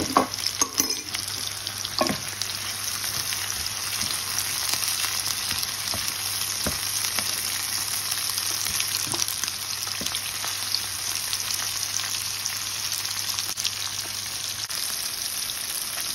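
Bell peppers frying in a hot pan, a steady continuous sizzle throughout, with a few scraping stirs near the start, close and fairly loud with no talking.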